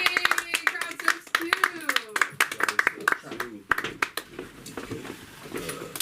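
Audience at a comedy show in a Los Angeles comedy school clapping for a comedian, a dense spread of sharp hand claps with a host's voice talking loudly over them before the applause fades.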